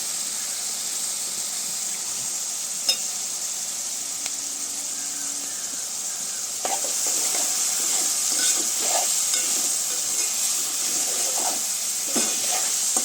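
Drumstick pieces fry with onions in a pan, a faint steady hiss and sizzle that grows slightly louder partway through, with occasional soft stirring knocks and no voices.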